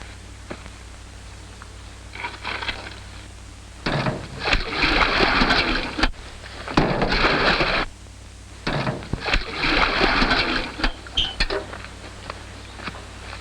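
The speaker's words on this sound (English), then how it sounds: "the water tank needs filling" Buckets of water are poured and splashed into a water tank in a 1951 film scene, arriving in three loud rushing bursts separated by quieter pauses.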